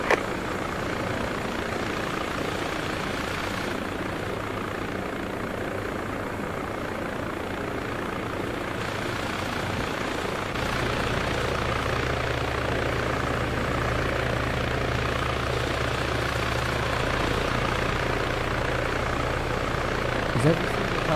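A helicopter in the military game Arma 3 drones steadily with a low rotor hum throughout, its engine note deepening partway through, while voices talk over it.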